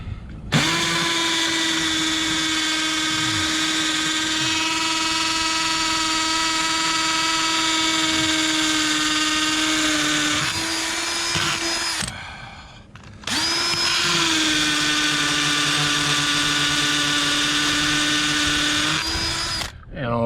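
A power drill drives anchors into a concrete slab for a pergola, running in two long, loud, steady bursts with a brief pause between them, its whine holding close and unbroken.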